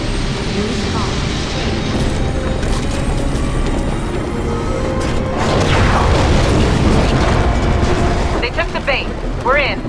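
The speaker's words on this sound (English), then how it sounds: "The cannon's powering up." A huge cannon in the video game Titanfall powering up and firing: a heavy mechanical rumble with a rising whine, a deep boom midway, and sharp sci-fi chirps near the end.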